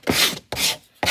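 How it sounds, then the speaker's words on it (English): Sandpaper rubbed by hand along the edges of a small wooden business card, three quick scratchy strokes with brief pauses between them, close and fairly loud with no talk. "give them a quick sand so you don't get splinters"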